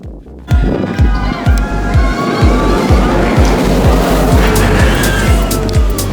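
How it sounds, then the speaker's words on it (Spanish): A loud, rapid train of rhythmic pulses under a rushing roar, rising steadily as the electromagnetic launch of the Red Force roller coaster at Ferrari Land, PortAventura, accelerates the train close by. "Es el propio mecanismo electromagnético que acelera el tren que provoca este ruido"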